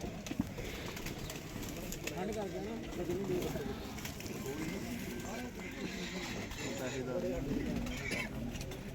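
Pigeons coo in low, rolling calls at a rooftop pigeon loft, a continuous murmur of overlapping coos heard under people talking nearby.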